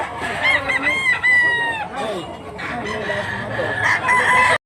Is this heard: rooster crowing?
yes